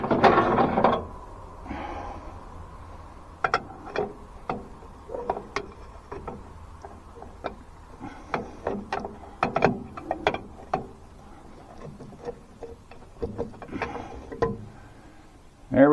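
A pry bar works a wheel brake shoe loose on a Cat 922B loader, giving a close series of irregular metallic clanks, knocks and scrapes with quiet gaps between them.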